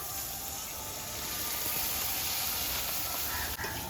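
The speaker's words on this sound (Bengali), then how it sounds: "মশলাটা যাতে না পুড়ে যায় এই জন্য সামান্য একটু জল দিয়ে দিচ্ছি।" Water poured onto ground dried chilli paste frying in a pan, a loud continuous sizzling hiss that holds steady for several seconds with a faint clink near the end, no voices.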